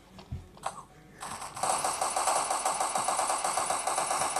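Rapid automatic gunfire in a shooting video game, a dense rattling burst that starts after a few faint clicks and runs continuously and loudly to the end.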